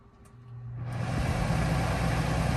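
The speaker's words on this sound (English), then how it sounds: "Fan first, then the compressor. So compressor is running." Coleman Mach 3 NDQ RV air conditioner powering up on high cool: a low hum builds, then a broad rushing fan roar swells in and settles into a loud steady drone, close by with no talking.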